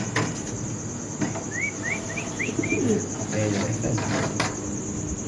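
Fancy pigeons coo at a pigeon farm, low murmuring calls rising among a few short chirps over a steady background hum of the coop.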